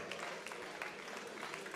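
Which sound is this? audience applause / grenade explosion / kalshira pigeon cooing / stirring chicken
audience applause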